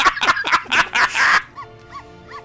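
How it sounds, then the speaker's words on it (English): Barking plants in the LEGO Batman video game let out a quick run of loud, close, yappy dog-like barks, followed by softer chirping creature calls. "Barking plants!"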